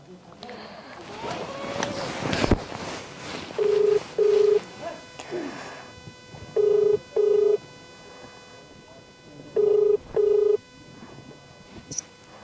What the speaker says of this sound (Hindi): रुका फोन लगाई रुका।